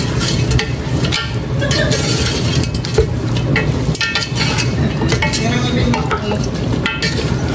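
Native chicken seasoned with pepper and salt fries and is stirred in a pan, a loud continuous sizzle with scraping and stirring clatter, close and alone without talk.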